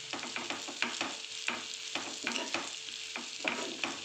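A spicy kurdai fry with salt and coriander is stirred in a pan, a steady sizzle under repeated scraping strokes of the spoon, close and moderately loud, with no talking.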